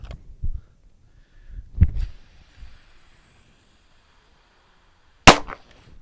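Gunshots fired at a T-Rex Arms Flinch target on a shooting line: a couple of sharp, loud reports spaced seconds apart with quiet between them, the last one the strongest.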